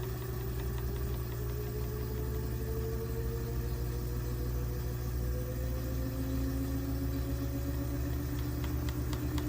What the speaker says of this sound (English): where it starts actually doing the spin launch